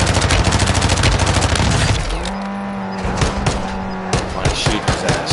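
Bursts of rapid gunfire in Warzone 2, loud and close, with a dense automatic stream early on giving way to scattered single shots and impacts, while players talk excitedly over it.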